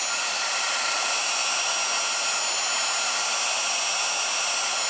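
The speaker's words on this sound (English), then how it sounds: "I'm going to go ahead and turn my heat gun to high and let it heat up" Heat gun running on high while working on a 2008-2014 Ford F-150, a constant, loud, even blowing whine with a steady hiss and no talk over it.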